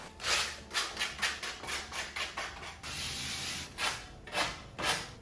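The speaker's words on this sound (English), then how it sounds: "we're sanding it down" Sandpaper worked over a wooden tufting frame for DIY rug making, giving a run of rhythmic rasping strokes, close and moderately loud, with brief pauses between passes.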